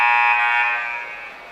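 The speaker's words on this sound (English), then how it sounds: "We're waiting for the buzzer to sound here to start the action." A basketball game buzzer starts the second half with a single loud, harsh electronic tone held steady for over a second before easing slightly, no talking.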